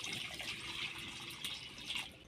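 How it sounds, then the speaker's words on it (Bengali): Water pours into a pan set on the stove, a soft, fairly faint stream that runs steadily throughout with no voices. "পরিমাণ মতো জল দিয়ে দেব।"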